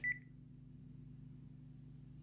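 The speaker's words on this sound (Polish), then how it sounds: "wyłączamy teraz telefon, przyciskając i przytrzymując czerwoną słuchawkę." A Panasonic KX-TGA671FX cordless phone gives one short, clear beep as it switches off. A steady low electrical hum carries on underneath afterward.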